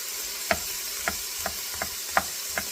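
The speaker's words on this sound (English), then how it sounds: "So I'm just going to chop these up." Garlic cloves being chopped into a rough dice with a knife on a cutting board: six separate, sharp knocks spaced irregularly about half a second apart, fairly quiet and close, with nothing else between them.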